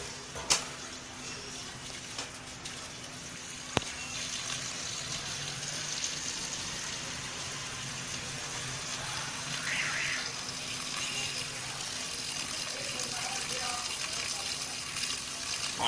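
Water is poured into a vessel while preparing a herbal Mako (black nightshade) distillate, a faint, steady splashing gush that runs throughout at low level.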